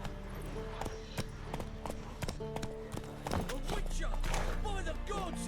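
Roach, Geralt's horse in The Witcher 3, gallops with a quick, steady clip-clop of hooves, close and distinct, over a low background of game ambience.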